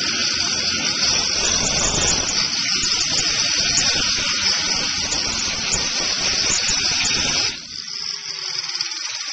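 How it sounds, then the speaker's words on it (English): A grinder works metal down to a bare surface, giving a loud, continuous harsh hiss and whine that drops off sharply near the end, leaving a quieter tail. "I'm going to grind it again just to show you guys how you get a bare piece of metal with the"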